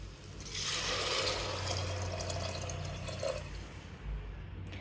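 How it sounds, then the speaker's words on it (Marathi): Water is poured steadily into a pressure cooker holding khichdi rice, a continuous soft rushing stream lasting several seconds before easing off near the end. "आता आपण यामध्ये पाणी ॲड करूया"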